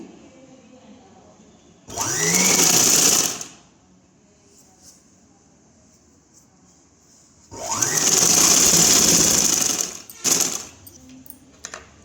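A sewing machine stitches half sleeves onto an umbrella long frock in two loud, steady whirring bursts of about a second and a half and two and a half seconds, with quiet pauses between them.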